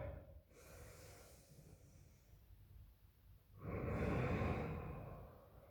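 A soft, airy breath is heard, then a longer, deeper exhale rushes out during a quiet relaxation breathing exercise at home. Both are faint and close, with no speech.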